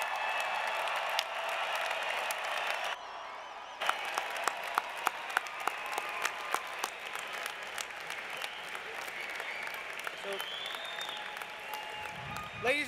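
An audience applauds graduates at the 2018 Drexel Engineering commencement ceremony: broad, sustained clapping from a large crowd in a hall, steady throughout with sharper individual claps standing out, fading near the end.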